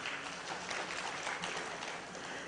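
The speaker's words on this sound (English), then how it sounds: "Give applause to Professor Sukoso." Audience applause at an Asia Halal Summit in Jakarta, a steady broadband patter of many hands clapping continuously at moderate distance, fairly quiet and even throughout with no speech over it.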